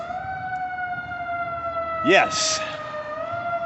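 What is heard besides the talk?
emergency vehicle sirens outside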